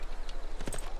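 Horse hooves clop in Civilization 6, a quick close pair of hoof strikes over a soft rhythmic game background.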